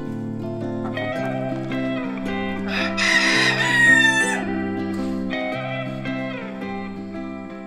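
Chickens cluck around a backyard coop, including young pullets and cockerels. Midway through, a rooster lets out one loud crow, heard over a steady tonal musical backing.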